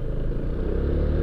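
A Honda Click 160 scooter fitted with 16-gram fly balls climbs a hill carrying a passenger, its engine drone steady and close as it eases off and then pulls away again, with some rattling clatter.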